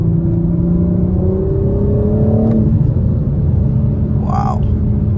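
A 2022 BMW M4 engine pulls hard from inside the cabin, its rising tone building and then easing into a loud, steady rumble, with a brief sharp noise near the end.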